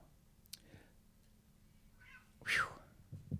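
A person imitates a cat's meow with a single short, nasal mew near the end, faint and close, following a few soft clicks and quiet room noise.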